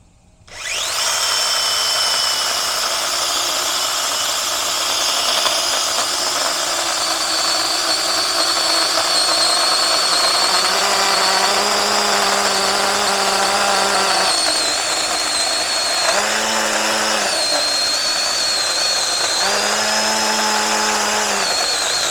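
A TROOZY Mini 6-inch battery-powered chainsaw cutting a clamped log, its high electric whine starting abruptly and running steadily, with the pitch dropping and lifting under load as the chain bites into the wood, loud and close.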